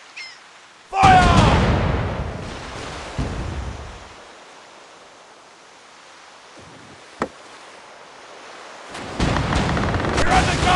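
A heavy, booming blast erupts and rumbles away, then a quieter thud and a sharp crack, with another rumbling surge at the end; distant and echoing.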